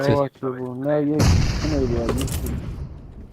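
A grenade blast in PUBG Mobile bursts loud and broadband, then rumbles and crackles away, following a stretch of voices talking.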